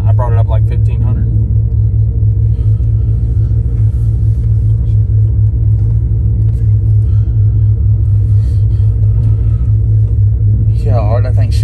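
A new Cadillac street car with a performance transmission idles with a loud, deep, steady rumble up close, and a voice briefly breaks in near the start and the end.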